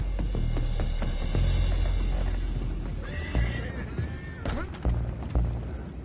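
Horses in Red Dead Redemption 2 whinny and stamp nearby, with clip-clopping hooves and thuds over a low rumbling backdrop, a couple of shrill neighs rising mid-stretch, and faint game ambience underneath.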